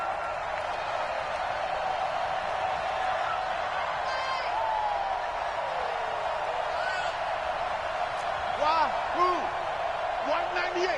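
A steady crowd roar fills a PS4 football video game during a tense two-point conversion, a constant wash of cheering noise with faint whistles and calls rising near the end.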